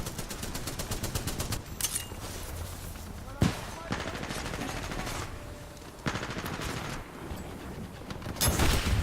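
Rapid automatic gunfire from Titanfall 2 multiplayer, the Devotion and Volt SMG among the weapons, comes in long sustained bursts with sharp single shots and explosions between them, loud and close under game noise.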